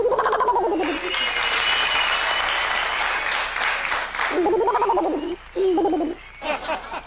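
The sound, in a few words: voice imitating owl call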